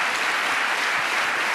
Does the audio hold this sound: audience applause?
yes